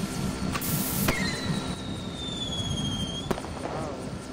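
A propane tank blowing up like a firecracker in the Henry Stickmin game: sharp bursts near the start and again later, with a whistling squeal gliding through between them over busy game noise.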